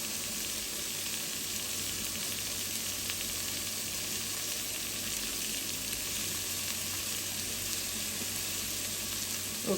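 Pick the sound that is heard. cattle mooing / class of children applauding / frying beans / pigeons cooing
frying beans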